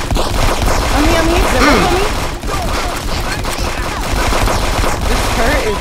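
Rapid, dense automatic gunfire from a turret in a multiplayer shooter game, loud and continuous over about six seconds, mixed with other game effects and several players talking over it.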